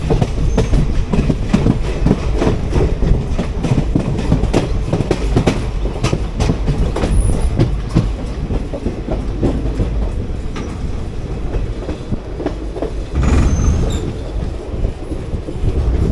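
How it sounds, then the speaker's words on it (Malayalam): A regular passenger train runs through the Palakkad Gap: loud, continuous rail clatter with rapid wheel clicks and brief metallic squeals, heard from on board. "സാധാരണ പാസഞ്ചർ ട്രെയിനാണ് നമ്മൾ പോകുന്നത്."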